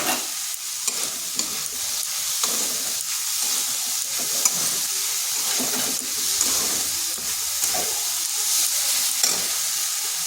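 Tomato and salt go into a frying pan for drumstick-leaf dal, bringing a steady close sizzle with repeated scraping stirs of a spatula against the pan, no talking.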